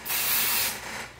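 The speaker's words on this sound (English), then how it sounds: "Put a little bit of the adhesive spray." Adhesive spray hisses from a can onto hooped embroidery stabilizer in one steady, close burst of about a second, fading out before a small click at the end.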